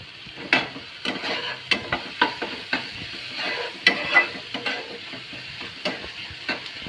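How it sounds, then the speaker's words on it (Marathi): Onion and tomato fry in a pan with a pinch of asafoetida, a soft sizzle broken by repeated scraping strokes of a spoon stirring at a steady, uneven rhythm. "कांदा टोमॅटो चांगला भाजत आलाय, त्यात थोडंसं हिंग टाकूया।"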